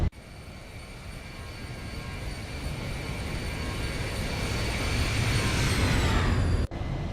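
A Boeing 737 in a flight simulator (Zibo 737) passes in a flyby as a broad jet roar that builds steadily in loudness and then cuts off abruptly near the end.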